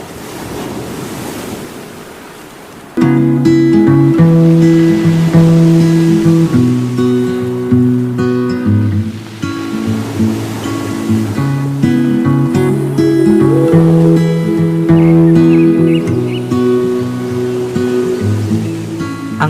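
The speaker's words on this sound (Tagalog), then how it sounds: "unti-unti na nating maririnig ang mga hampas ng alon sa dalampasigan" Ocean waves breaking and washing onto the shore at Masangret Cove, a small lagoon in Agno, Pangasinan, a loud continuous surf roar with heavy wind buffeting the microphone and a music bed underneath.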